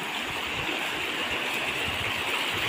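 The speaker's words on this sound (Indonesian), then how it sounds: "kita melintasi air sungai di sini" River water rushes steadily and loudly as someone wades across a river, a continuous broadband wash of flowing water with no gaps.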